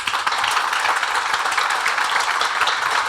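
An audience claps steadily at a church program in Sharjah, a dense, continuous patter of many hands with no break, fairly close and filling the room.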